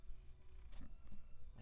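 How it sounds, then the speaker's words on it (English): A house cat purrs close to the microphone indoors at night, a steady low rumble with soft breathy pulses repeating across the clip. "They can hear you purring"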